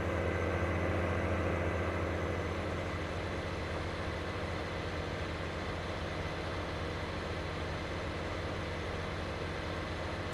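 A vehicle engine in Farming Simulator 19 revs as a steady, loud, low drone with a rough mechanical hum that holds throughout, with no speech.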